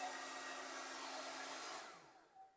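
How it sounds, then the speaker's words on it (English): A hair dryer blows loudly and steadily at close range, heating a small rubber fuel-line piece, then switches off and winds down. "I've got the hair dryer going just to try and heat this little rubber piece up"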